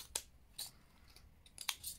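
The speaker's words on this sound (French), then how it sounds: "j'ai opté pour le crantage des bords parce que j'ai les ciseaux" Scissors snip paper to notch its edges, several faint, quick crisp cuts spaced irregularly in a quiet room.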